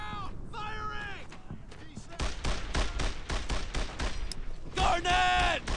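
Gunfire in the World War II shooter Brothers In Arms: Earned In Blood, rapid bursts of rifle and machine-gun shots crackling in quick succession, mixed with shouted voices at the start and end.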